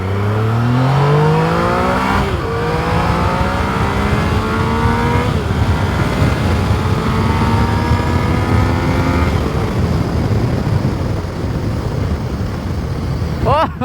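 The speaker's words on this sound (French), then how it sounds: "La petite accélération qui fait plaisir" A motorcycle engine revs hard and climbs in pitch, shifting up through several gears, loud and close throughout.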